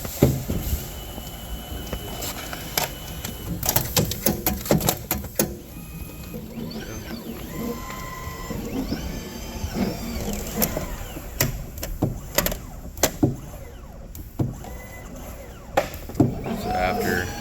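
Flex Series F.1 carton erector machine running, with a close mix of clicks, clunks, servo whirs and short motor whines in irregular bursts, and a person talking over parts of it.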